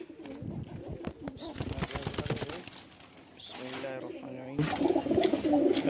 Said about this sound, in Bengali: নতুন কবুতরগুলো সুন্দর করে ডাকতেছে